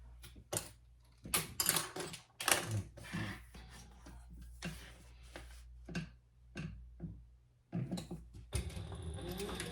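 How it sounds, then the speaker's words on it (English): A sewing machine basting a line of top stitching around the outside of a unisex crossbody bag, running in short mechanical bursts with pauses between them, close and fairly loud. "Now we're just gonna baste our top stitch around the outside."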